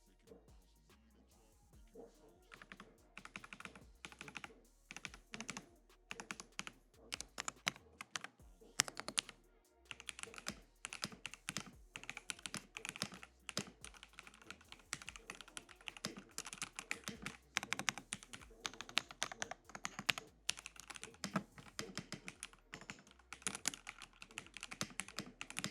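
A homemade keyboard built from LEGO bricks is typed on in irregular runs of soft, hollow clicks and clacks, close and fairly quiet, with no talking.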